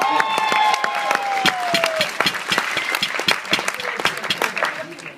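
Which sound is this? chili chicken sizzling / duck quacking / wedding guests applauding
wedding guests applauding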